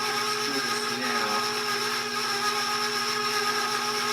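Electric mixer whirring steadily as it blends dry ingredients for a cast iron chocolate birthday cake, a continuous close motor drone that holds even throughout with no talking.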